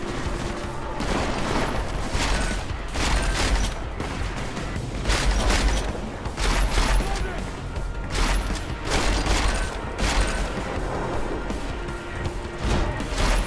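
Sustained gunfire fills a firefight in the video game Deus Ex: Mankind Divided, with dense overlapping bursts, crashes and impacts across the whole stretch at a steady, loud level.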